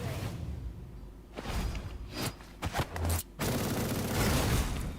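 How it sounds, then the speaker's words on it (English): Machine gun fire in the game Ruined King: A League of Legends Story comes as a few sharp bursts and whooshes over a busy combat soundscape, with no talk. "Machine gun."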